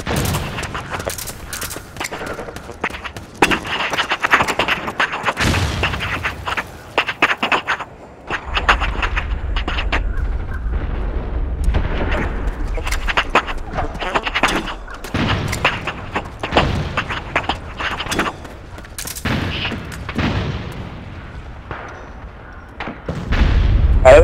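Gunfire in the online shooter Metal Gear Online on an urban multiplayer map, with repeated bursts and single shots plus deep booms, steady and fairly loud across the whole stretch, with brief voices at times.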